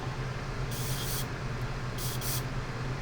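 A spray can of primer hisses in short bursts while coating a 1/144 Gundam OZ-06MS Leo model kit part. There is one longer spray followed by two quick ones close together, over a steady low background hum.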